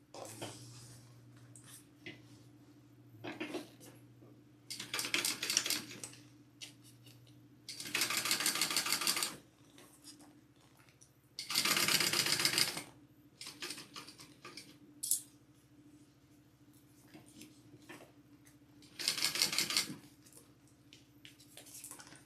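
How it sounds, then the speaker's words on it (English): A sewing machine topstitches along the bottom piece of a vinyl bag. Loud, close bursts of rapid stitching start and stop several times, with quiet pauses and faint handling noises between runs. "I'm top stitching along this bottom piece here"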